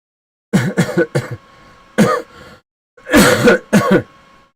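Several sharp coughs from a nearby person come in two bursts, a quick run of three or four and then a heavier cluster a moment later, with brief silence between them and no talking.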